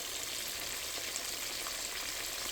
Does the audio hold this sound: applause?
no